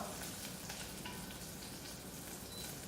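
Quiet, continuous sizzling of garlic and chili frying in a hot wok, a soft crackling hiss with faint stirring scrapes and no talking.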